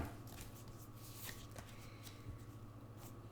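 Spirit Animal Oracle cards riffled and shuffled by hand in a steady, close papery flutter with a few sharper snaps, no one speaking.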